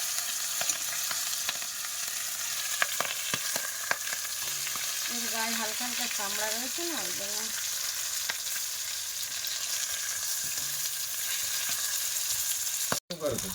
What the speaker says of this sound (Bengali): মাছ কিন্তু প্রায় ভাজা হয়ে গেছে ধীরে ধীরে ধীরে ধীরে আস্তে আস্তে ভাজবে